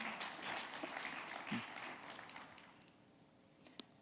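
Audience applause at a live talk on salary negotiation, a soft spread of clapping that thins out over a few seconds and fades toward the end, with a single sharp tap near the close.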